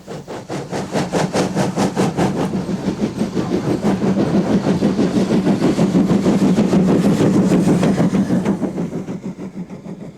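LNER steam locomotive 65892 runs vigorously with a loaded train through Ryhope on the Hartlepool–Sunderland line, its rapid regular exhaust beats loud and close, swelling to a peak over ten seconds and then easing slightly.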